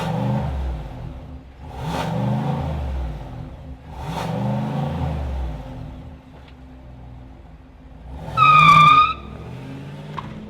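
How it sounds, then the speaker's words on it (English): 2025 GMC Sierra Denali Ultimate V8 engine, heard close up in a series of throaty revs that rise and fall about every two seconds, followed after a pause by a louder, sharper burst of revving. "let's fire up the V8 and hear what this Sierra Denali Ultimate sounds like."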